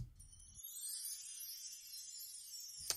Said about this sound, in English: It's just some bar chimes that show up during the pre-chorus.